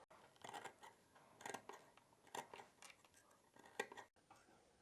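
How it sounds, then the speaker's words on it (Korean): Fabric scissors snipping notches into the curved seam allowance of a sewn dog harness, a series of crisp, close metallic cuts in irregular bursts, each snip sharp and short, with a short quiet pause near the end. "가위 좀 주실래요? 가위밥 좀 주게."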